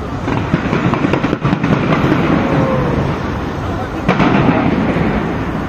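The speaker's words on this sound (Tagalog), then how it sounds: "Napakalupit talaga yung fireworks nila." New Year fireworks display at Taipei 101 in 2024, a loud, continuous barrage of overlapping bursts and crackles with a few sharper booms standing out.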